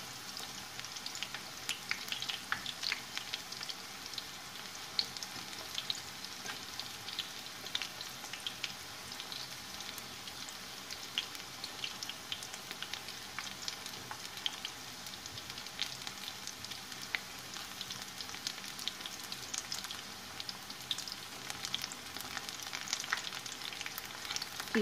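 Cauliflower pieces fry in a pan with a steady, even sizzle that runs without a break, fairly faint and with no voice over it.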